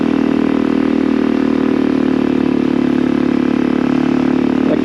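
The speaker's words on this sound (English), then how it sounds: "Like the motor in this motorcycle." A motorcycle engine runs loud and close, holding a steady low hum with a constant mechanical rumble and no noticeable revving.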